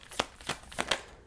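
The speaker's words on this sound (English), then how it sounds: "It's a good shuffle." Tarot cards shuffled by hand in a riffle-and-bridge rhythm, four quick papery bursts about a third of a second apart, close and fairly quiet with no talking.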